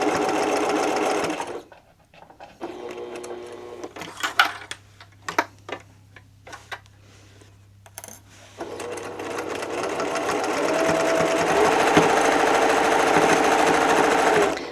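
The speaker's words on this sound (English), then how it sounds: "I just like to smooth down the fabric as I'm stitching." A sewing machine stitching stretchy terry cloth into a reusable kitchen cloth, its motor whirring steadily up close, pausing briefly for a few ticks and clicks before running continuously again.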